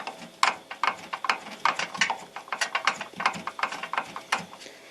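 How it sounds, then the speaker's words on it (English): A ratchet wrench undoes the antenna nut on a VW T4 van, worked left-handed: a fast run of sharp clicking strokes, close and steady, with no talk. "So I'm undoing that nut"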